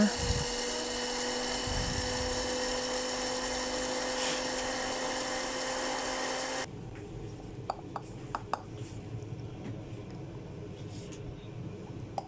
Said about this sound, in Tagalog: Yan po, be-blender ko na po siya.